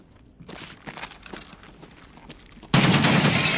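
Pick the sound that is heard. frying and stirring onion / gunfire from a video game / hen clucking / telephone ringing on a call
gunfire from a video game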